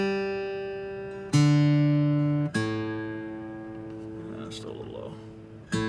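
A single string on an Ibanez guitar is plucked and left to ring, a few times in a row, its pitch shifting slightly between plucks as it is tuned.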